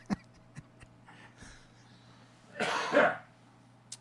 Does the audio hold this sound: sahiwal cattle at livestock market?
no